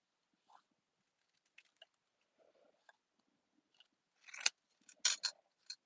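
Scissors snipping paper during fussy cutting for a handmade card, a few sparse crisp snips and rustles, louder bursts toward the end, close and quiet with no talk.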